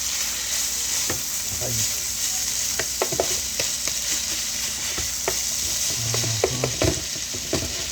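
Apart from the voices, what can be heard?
taco filling with tomatoes frying and being stirred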